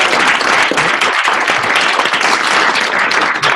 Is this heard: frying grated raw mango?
no